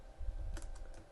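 A short burst of typing on a computer keyboard, several quick close key clicks over a soft low background hum, with no voices.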